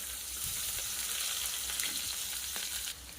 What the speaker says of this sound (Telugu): సన్నగా తరిగిన క్యారెట్, అలానే బంగాళదుంప, ఆనియన్స్, కరివేపాకు, పచ్చిమిర్చి ఇవన్నీ వేసి వేపుకుందాం.